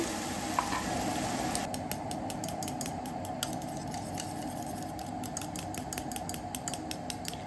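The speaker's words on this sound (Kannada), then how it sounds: "ಆಮೇಲೆ ಒಂದು ಸ್ಪೂನಷ್ಟು ಗರಂ ಮಸಾಲ ಪುಡಿ ಇದೆಯಲ್ವ ಅದನ್ನು ಹಾಕ್ಕೊಂಡು ಚೆನ್ನಾಗಿ ಫ್ರೈ ಮಾಡ್ಕೋತಾ ಇದ್ದೀನಿ" Spice masala with coriander powder and garam masala frying in a pan, a steady close sizzle under rapid, regular scraping and stirring clicks of a spoon against the pan, with no talking.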